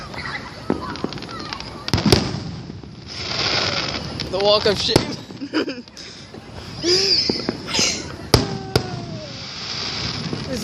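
Fireworks go off at a July 4th celebration with sharp, loud bangs scattered through the scene, some followed by crackles and whistling trails, while people talk and laugh nearby.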